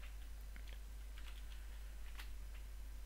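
Fast, light clicking of someone typing on a computer keyboard, a steady patter of keystrokes heard faintly over a constant low hum, with no voices.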